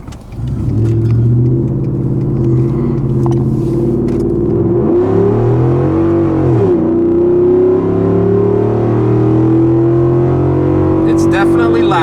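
Ford F150 pickup with a Borla ATAK exhaust rumbling loudly up close, its deep engine note swelling and dipping in a couple of revs and shifts before settling into a sustained drone, with occasional faint sounds over it.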